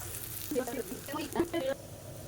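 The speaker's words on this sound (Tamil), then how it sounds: "இப்போ இந்த துவையில் போட்டு இந்த எண்ணெயில் நல்லா பரட்டி எடுத்துக்கலாம்" Urad dal sizzles and fries in hot oil in a pan while a chutney (thuvaiyal) is being made, a steady close crackle with brief louder bursts of stirring.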